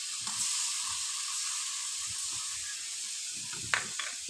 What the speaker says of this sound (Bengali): এবার রসুনটা একটু ভেজে নেব পেঁয়াজ রসুনগুলো একটু ভেজে নিলাম